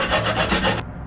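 Rapid back-and-forth rasping strokes of a hand saw cutting through rusted screws on a van, close and rhythmic, stopping abruptly after about a second.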